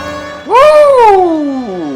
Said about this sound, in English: I have a siren on.